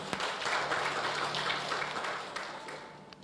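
Church congregation applauding for God during a sermon, a steady, fairly soft wash of many hands clapping that holds for a few seconds and fades slightly toward the end.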